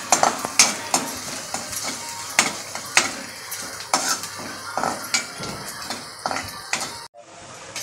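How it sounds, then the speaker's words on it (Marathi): Onion frying in a pan for a prawn curry, stirred repeatedly with a metal spoon: steady sizzle under rhythmic scraping and clinking strokes, close and clear, ending abruptly. "कांदा लाल होईपर्यंत ढवळत राहायचं आहे।"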